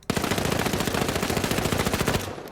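An XP54 submachine gun from the video game THE FINALS fires one continuous rapid burst, loud and close, its even stream of shots cutting off sharply after about two seconds.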